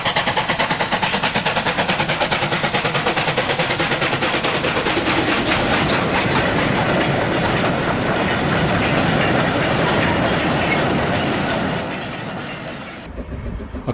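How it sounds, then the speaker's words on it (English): Steam-era trains, including a coal train, roll past on newly ballasted track at Edgeley, Stockport, heard loud and close from the embankment with a steady rapid clickety-clack of wheels on rail joints that continues before fading away at the end. "trains started passing"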